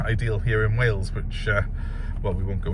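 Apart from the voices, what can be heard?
No distinct noise like a dog, phone or traffic.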